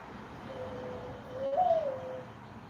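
A dove nesting on a porch gives a single soft coo, a faint rising and falling call heard alone over quiet outdoor background noise.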